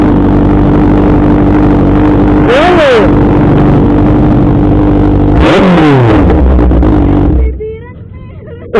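A Kawasaki ZX6R 636 motorcycle rumbles at a loud, close idle and gets two sharp throttle blips that rise and fall in pitch. The engine then drops to a quieter idle under background chatter.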